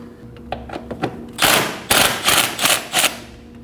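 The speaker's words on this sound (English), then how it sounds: "remove the 2 12mm bolts holding the intake plenum. Go ahead and take those out using a 12mm socket" A 12mm socket wrench ratchets on intake plenum bolts of a 2011-2016 Kia Optima, first in a few light clicks, then in louder bursts of rapid clicking up close.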